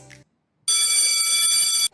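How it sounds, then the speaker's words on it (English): A bell rings once in a short, steady, bright electronic tone lasting just over a second, loud and close, after a brief faint sound and a moment of silence. "She also heard the bell ringing,"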